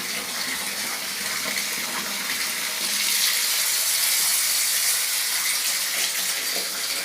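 Water gushes hard and steady from a tap in a home after an overhead tank repair, a loud, continuous hiss that swells slightly partway through, with no talk.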